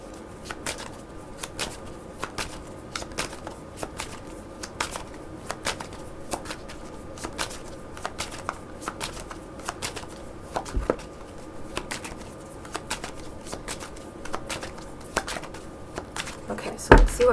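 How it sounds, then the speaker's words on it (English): A deck of tarot cards is shuffled for a reading, giving steady, rapid riffling and flicking clicks that continue for many seconds at close range with a soft background. "Let me just give it a quick shuffle."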